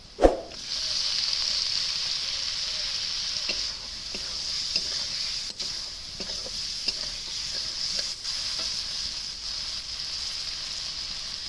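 Tomatoes drop into a hot pan of palak paneer with a sharp initial hit, then a steady loud sizzle and hiss continues with occasional faint stirring clicks.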